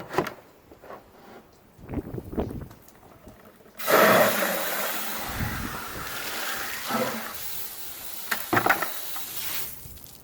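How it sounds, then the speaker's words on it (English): Dirt is rinsed out of a Desertcraft pre-filter: quiet handling noises give way to a sudden, steady rush of running water that continues close and loud, with occasional splashes. "I'm going to rinse that out real quick."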